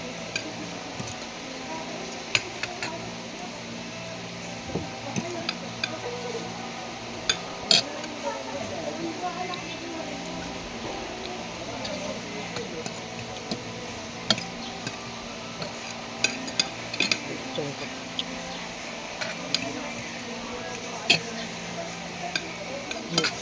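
A kawali wok being stirred while pancit canton cooks at a lunch spot, giving steady light metallic ticks and scrapes against a busy room murmur, fairly quiet and continuous.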